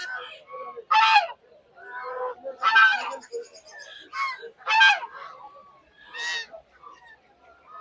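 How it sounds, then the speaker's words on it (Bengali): Geese honking at a busy livestock market in Fatullah, several loud close calls in irregular bursts separated by brief pauses. "দেখতে পাচ্ছেন আজকেও প্রচুর হাঁস কিন্তু এসেছে ফতুল্লা হাটে।"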